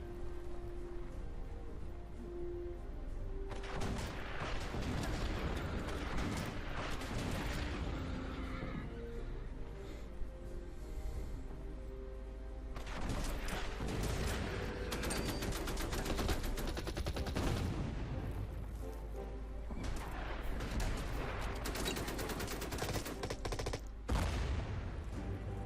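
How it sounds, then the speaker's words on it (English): Heavy artillery fire in the WWII strategy game Order of Battle: World War II comes as loud, repeated bursts of booming and rattling gunfire in separate waves over a constant low game rumble. "that's some very heavy artillery"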